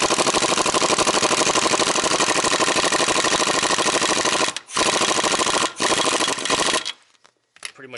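A compressed-air impact tool with the regulator turned down to half pressure runs in a loud continuous buzzing burst, tightening clamps on an Alfa Romeo Giulia Quadrifoglio exhaust X-pipe, then pauses briefly twice before stopping near the end.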